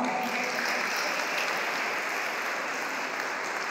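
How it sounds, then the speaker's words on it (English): Steady, dense applause from a charity Christmas carol concert audience holds at an even level for a few seconds, with no pauses. "Give them a round of applause."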